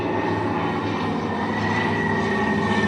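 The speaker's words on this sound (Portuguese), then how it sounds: "Um monte de aviões!" Several airplanes flying overhead, a steady, loud broadband engine roar that holds without a break.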